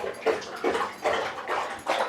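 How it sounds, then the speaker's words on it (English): A dog drinking water indoors, with repeated lapping bursts about every half second, close and moderately loud throughout. "Dog drinking water."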